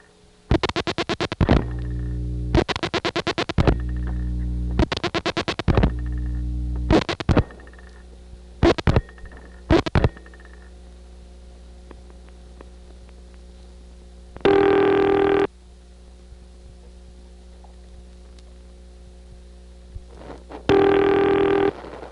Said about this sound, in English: That's a really unusual ringtone.